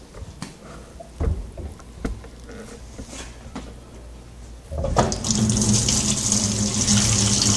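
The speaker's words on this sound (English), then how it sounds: "I'm going to uncover the hole, let the water leak out" Water streams from a hole in a plastic bottle, dripping and clicking at first, then running continuously into a pool with a steady, loud splashing patter.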